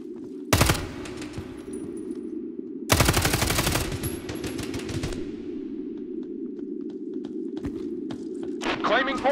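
Automatic gunfire in the video game Hired Ops, two loud rapid bursts close by over a steady low game hum, with scattered single shots and clicks afterward.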